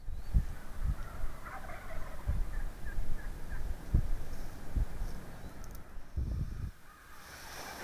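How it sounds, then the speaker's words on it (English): A flock of Merriam's wild turkeys gobbles at a distance on an early morning in Nebraska, with short bursts repeating every second or so over steady outdoor background noise. "We've got a flock of turkeys across the road here, strutting and gobbling, and we're just waiting for them to come on across."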